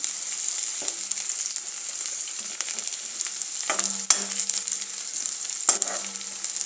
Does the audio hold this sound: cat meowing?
no